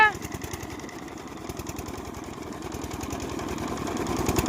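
A nearby farm engine, just started, chugs loudly and steadily with a fast, even thumping rhythm, running without pause throughout.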